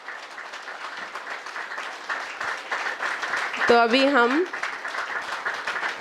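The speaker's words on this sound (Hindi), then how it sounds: "वाली ताली तो बजाना।" An audience claps together during a Brahma Kumaris spiritual class in Bahadurgarh: steady, dense applause fills the room throughout, with a voice speaking over it and a brief tonal sweep near the middle.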